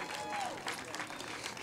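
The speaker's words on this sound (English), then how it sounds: "Another round of applause for our Youth Advisory Council." An audience at a Domestic Violence Awareness Month launch event applauds a youth advisory council, a soft, distant wash of clapping lasting under two seconds.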